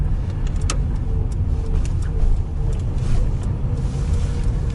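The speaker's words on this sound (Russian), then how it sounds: "Проедемся по городу Сыктывкару" A car drives through the streets of Syktyvkar, a steady loud rumble of engine and road noise from inside the cabin, continuous and without talking.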